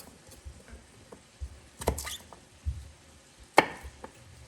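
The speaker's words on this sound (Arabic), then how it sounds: "الفلفل الحار كيف قصوه كيما هكا" A knife chops hot chili peppers on a board in a home kitchen: a few soft, scattered taps come first, then several sharper, louder chops close by, spaced irregularly, with no talking.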